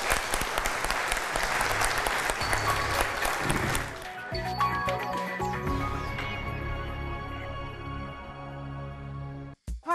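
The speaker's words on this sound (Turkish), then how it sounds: "Bir alkış ister. Hem de kuvvetlisinden." A studio audience on a Turkish TV word-game show claps loudly and densely for about four seconds, then the applause thins into scattered claps and fades, with a music sting underneath.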